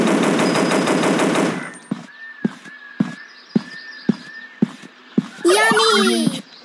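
Gunfire in the mobile game Dinosaur Hunter: a rapid buzzing burst gives way to a regular series of single sharp shots about half a second apart, with a voice-like sound near the end.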